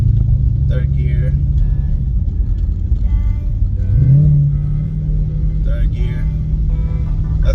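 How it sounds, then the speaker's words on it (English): Car fitted with a ported supercharger and 105mm throttle body accelerating hard in third gear as boost builds and the tires spin, a loud continuous engine roar with a rising pitch partway through, under talk. "As soon as the boost comes in, start spinning the tires."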